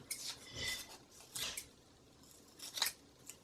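Paper stickers are being snipped with scissors, three or four crisp, close cuts spaced about a second apart with quiet pauses between them.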